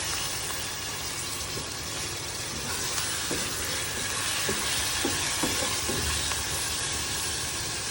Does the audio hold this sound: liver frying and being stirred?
yes